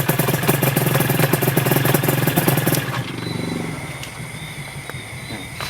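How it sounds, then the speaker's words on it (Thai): A Honda NSR250 MC21 two-stroke motorcycle engine runs with a loud, steady buzzing idle, then is switched off about halfway through, leaving a quieter tail with faint background sound. "เดี๋ยวไปดับเครื่องก่อนครับ"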